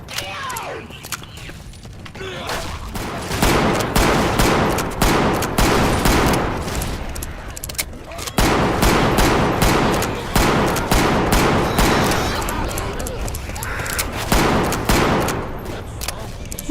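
AK rifle fire in the zombie shooter Left 4 Dead 2, a dense run of rapid automatic shots in long bursts with brief gaps, loud and close, mixed with other game sounds.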